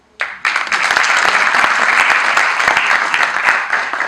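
Audience at a sports management master's graduation ceremony applauding the graduates' families, a sudden full burst of dense clapping that holds steady and loud throughout.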